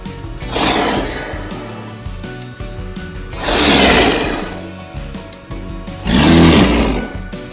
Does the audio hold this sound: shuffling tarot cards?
no